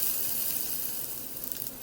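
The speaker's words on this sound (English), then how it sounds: "toss in your onions. Let those sizzle and cook until they're nice and brown" Onions frying in oil in a cast iron or steel pan, a close, steady crackling sizzle with no talk.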